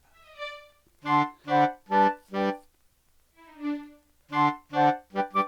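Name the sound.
orchestral mockup playback with oboe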